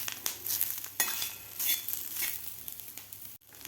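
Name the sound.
onion and grated coconut roasting in a pan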